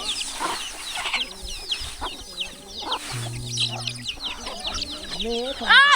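Chickens for sale cluck near at hand in a village surrounded by mountains, with busy overlapping clucks and calls and a rooster-like cry near the end, while people talk in the background.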